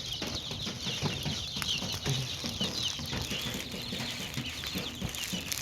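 Young desi chickens of the tiger breed clucking and moving about as they hop around, with soft, scattered calls over a continuous rustle and flutter close by.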